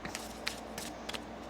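Tarot cards are shuffled by hand in a few faint, quick papery bursts at close range, with quiet pauses between them.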